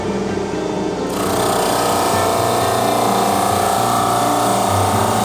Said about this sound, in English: I glued up the 2 halves and moved over to the drum sander.